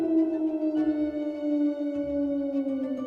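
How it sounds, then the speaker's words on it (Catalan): A wolf lets out a long, sustained howl with a steady tone that slowly falls in pitch over about three seconds. It sounds clean and isolated, with no voices. "el que produeix un llop"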